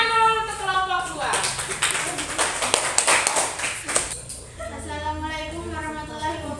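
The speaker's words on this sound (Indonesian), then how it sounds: "Beri tepuk tangan dulu untuk kelompok 2" A classroom gives a brief burst of applause for a group of students about to present. The dense clapping lasts around three seconds between stretches of talking.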